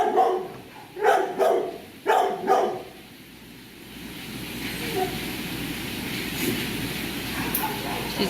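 A dog barks in a kennel, three short double bursts in the first few seconds, then falls quiet over a steady low background rumble.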